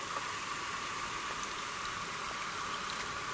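A small garden mini sprinkler sprays water in a steady, continuous hiss with faint droplet patter, sounding fairly close and even throughout, with no voices.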